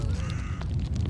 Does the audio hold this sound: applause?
no